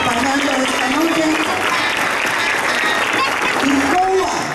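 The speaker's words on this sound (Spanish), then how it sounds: "para quienes pedimos un fuerte aplauso" A dense wash of clapping fills the space, with a voice carrying tones over the steady applause the whole time, at the opening night of an international classical music festival in Santander de Quilichao.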